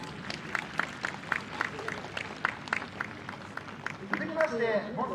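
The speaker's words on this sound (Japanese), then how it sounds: "どうぞ大きな拍手をお願いいたします。" A crowd applauds at the Sanriku fireworks festival with a soft, steady patter of clapping and a few sharp claps, while an announcer speaks over a PA.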